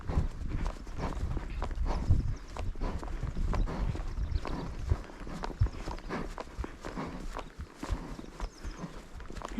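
A horse's hooves clip-clop steadily while walking up a steep hill, close and fairly loud over continuous rustling and wind-like noise.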